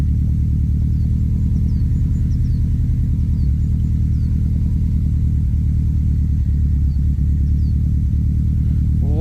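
A Subaru Impreza WRX STI engine idles after a cold start, a steady, close, loud low-pitched burble with a constant rhythmic throb and no voices.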